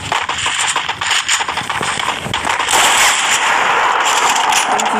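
Gunfire in a shooting video game comes as loud, rapid bursts of shots, at first choppy and irregular, then merging into a dense, sustained crackle with no talk.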